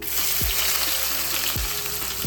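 Three chopped onions hitting hot oil on medium flame for chole, a steady soft sizzle and hiss with a few low thumps as pieces drop into the pan.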